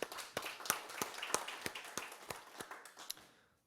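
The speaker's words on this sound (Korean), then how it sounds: "하나님 앞에 영광의 박수 드리겠습니다" A small church congregation claps in praise during a Sunday worship service, producing sharp, regular claps in a fairly even rhythm, soft and somewhat distant, tapering off toward the end.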